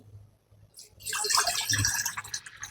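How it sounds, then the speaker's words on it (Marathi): A near, bright pour of water into a pot on a lit gas stove for sprouted-bean amti begins after a quiet start and keeps going with a bubbling, splashing texture. "ह्याच्यामध्ये आपण लगेचच पाणी घालून घेणार आहे"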